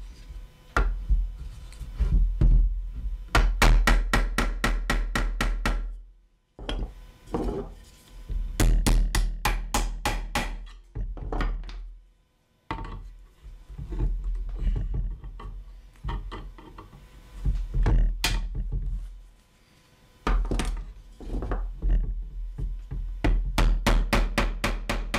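Hammer peening a pin end into a rose head on a barrel chair project, delivered as bursts of rapid, ringing close taps separated by short pauses, loud and alone.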